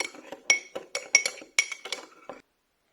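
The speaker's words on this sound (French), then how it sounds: "On commence à mélanger un peu." A spoon clinks against a bowl while mixing sugar and olive oil, a quick run of light, irregular taps and scrapes for about two seconds, then stops.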